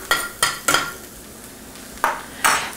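A spoon scrapes and clatters around a pot of chopped onions in homemade BBQ sauce, five distinct stirring strokes with a soft sizzle underneath, close and clear.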